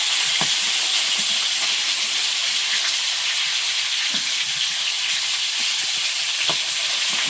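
Bele river fish fry in a hot kadai, a steady, close hiss of oil with scattered soft pops and spits running evenly throughout.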